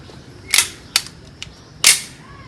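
Dry-firing an empty handgun, a few sharp, close mechanical clicks and snaps of the trigger and action with short gaps between them, set against a quiet background with no talking.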